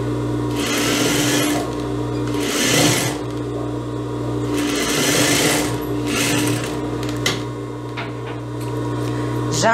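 A sewing machine stitches the armhole seam of a blouse, joining the sleeve to the front piece right sides together; the motor whirs loudly in long continuous bursts separated by brief pauses, with no talking.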